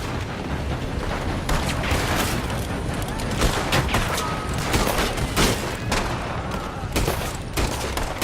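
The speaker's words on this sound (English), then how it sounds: "They're shooting from that building." Dense gunfire from a Red Dead Redemption 2 shootout, with rapid overlapping shots and heavier booming blasts cracking loudly and nearly nonstop throughout.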